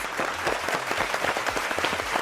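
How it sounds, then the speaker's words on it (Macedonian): Studio audience applauding for two guest stars on a Macedonian TV show, a dense, steady wash of clapping that holds at an even level throughout. "Ве молам еден огромен аплауз."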